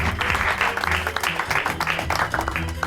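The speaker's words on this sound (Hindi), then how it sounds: "बजाओ ताली।" A group clapping in an office scene after a boss announces an employee's last day at the company, steady dense applause with some voices underneath throughout.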